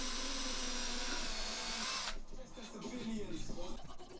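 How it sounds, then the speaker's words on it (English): A power drill whines steadily for about two seconds drilling a pilot hole in a wooden block, then stops, leaving quieter workshop noise and faint rustling. "Then I could drill a pilot hole through the block for the screw."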